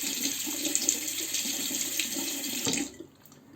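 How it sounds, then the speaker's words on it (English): Tap water running steadily into a sink while a Merkur Progress safety razor is rinsed under it, the flow shutting off abruptly near the end. "I will rinse the razor to show you."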